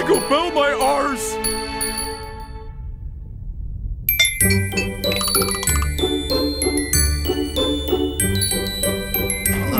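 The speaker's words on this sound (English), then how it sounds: "Ring! Ring, magic bell!" A magic bell rings in a staging of Mozart's opera The Magic Flute, a bright tinkling glockenspiel-like figure with orchestra that sets in after a brief sung line and a quiet pause, then plays on steadily.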